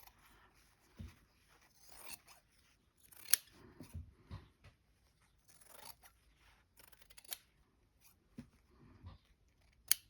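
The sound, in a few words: scissors cutting fabric down the middle for a cushion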